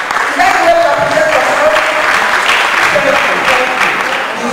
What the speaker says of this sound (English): So, please applaud yourself for the choice of being in this conference.